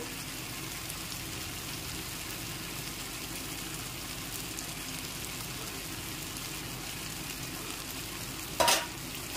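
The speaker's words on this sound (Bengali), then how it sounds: "একটু ভালো করে নেড়েচেড়ে মিশিয়ে নিয়ে ভেজে নিতে হবে" Turmeric powder, chilli powder and chopped green chilli are stirred and fried in a pan, giving a steady, close sizzle with soft scraping throughout and one sharp utensil knock near the end.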